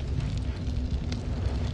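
Fire crackling and roaring in the video game Noita, after a burning lamp is knocked down. A steady dense rumble with scattered small pops runs throughout at a moderate level, and no one speaks.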